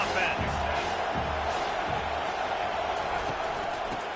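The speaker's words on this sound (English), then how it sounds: "This crowd trying to make life miserable for this offense." Stadium crowd noise in the NCAA 25 football game forms a loud, dense, steady roar with dull thumps underneath, while a commentator speaks over it.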